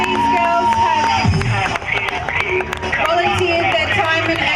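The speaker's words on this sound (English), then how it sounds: "Please give all the girls a round of applause." At a Fiji Day 2012 celebration in Sydney, an audience claps and cheers for the volunteers of a fashion show, a lively crowd with whoops and babble.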